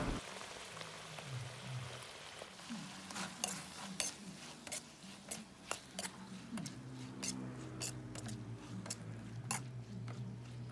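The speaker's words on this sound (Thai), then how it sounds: "ใส่ลงไปแล้วก็ผัดคลุกเคล้าให้เข้ากันเล็กน้อยนะครับ" Soft scraping and clinking of a utensil stirring pineapple into a mussel curry in a pan, with sharp intermittent taps and a low sizzling hiss underneath.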